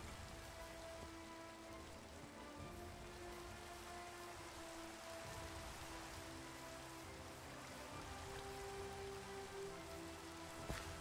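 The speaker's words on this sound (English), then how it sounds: "It's raining." Steady rain falls in a modded video game, a soft, even patter of drops on surfaces that continues throughout without any voices.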